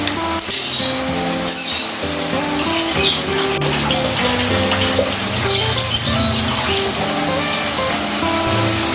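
Water running from a tap while chopped cabbage is washed in a kitchen: a continuous splashing, trickling stream close by, with faint clatters and background music throughout.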